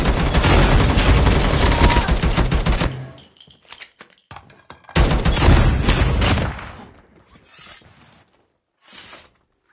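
The Oden rifle fires in Call of Duty Mobile in long, loud bursts of heavy gunfire, with a pause of mechanical clicks between bursts and a few fainter shots trailing off at the end.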